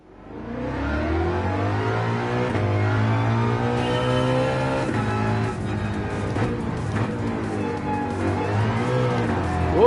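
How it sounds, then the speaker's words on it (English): A Ford car in Gran Turismo 7 revs hard on a track, its engine note climbing steadily and loudly through the gears, close and sustained with no talk. "I should maybe try driving the Ford on the track now"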